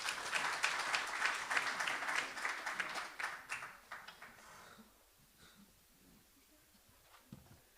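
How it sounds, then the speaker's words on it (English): At a community dialogue at the Raymond Mhlaba Centre, the audience greets the panel discussants with a burst of clapping that tapers off after about four seconds. It leaves a quiet room with a few faint stray sounds. "Let's give them a round of applause,"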